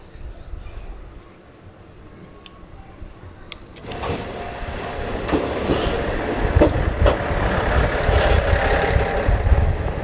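A small one-man train rumbles along the rails in Hamamatsu, Japan, quiet at first, then louder clattering and faint wheel squeals build as it rolls steadily onward.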